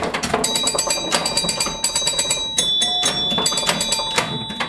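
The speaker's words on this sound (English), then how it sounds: "I don't know why you hate chimes so much." Electronic pinball chimes ring over and over in a Stars pinball video game, bright bell-like tones mixed with fast clacking and clicking. They play loud and close, almost nonstop.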